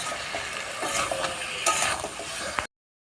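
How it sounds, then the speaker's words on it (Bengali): Potatoes frying in a pan on a home stove, a steady sizzle with some stirring scrapes and a few brief clinks, fairly close and without talk, ending abruptly. "এবার ভাজতে থাকবো আলু।"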